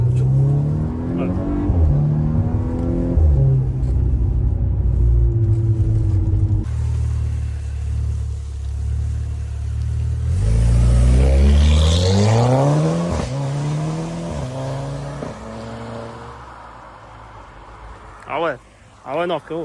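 Volkswagen Golf 6 R engine revving outdoors, loud rising and falling revs in several bursts with a sharp blip near the end, while people talk over and between them.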